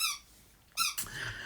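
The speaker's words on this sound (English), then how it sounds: "Dog's squeaking his fucking toy because he's a prick." A dog chomps a squeaky toy, giving two short, shrill squeaks close by, with a quieter scuffling sound between them.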